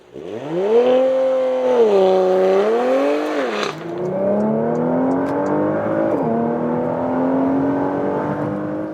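A 2022 Porsche Macan GTS facelift with 440 horsepower accelerates hard on a German motorway. Its engine note climbs steadily and loudly, breaks briefly at a gear change, then pulls upward again.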